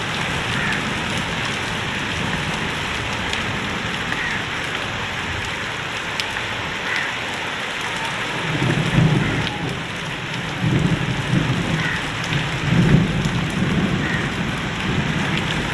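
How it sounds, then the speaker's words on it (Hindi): Heavy rain pours steadily over farm fields during the wheat harvest season in Punjab, a dense continuous roar, with low rumbles of thunder rolling in about halfway through. "इतनी तेज़ बारिश अल्लाह माफ़ करे।"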